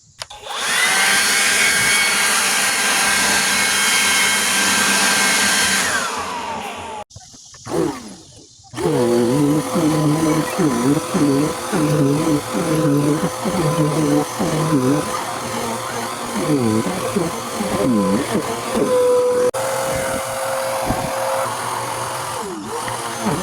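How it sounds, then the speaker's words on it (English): A loud, steady leaf blower roars continuously outdoors, pausing briefly before starting up again with a fluctuating engine whine. "But I'm going to start out with the leaf blower."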